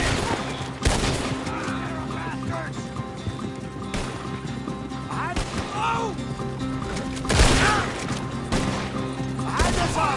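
Gunfire rings out in Red Dead Redemption 2, with several loud, sharp shots bursting over a rumbling backdrop during a shootout in an alley, spaced irregularly across the scene.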